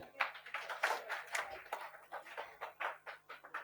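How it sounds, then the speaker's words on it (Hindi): Students in a chemistry coaching class clapping in a quick, even rhythm, a string of distinct sharp claps that stays fairly soft and a little distant. "बेहतरीन, जोरदार ताली"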